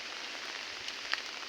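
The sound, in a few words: rain falling on umbrella while walking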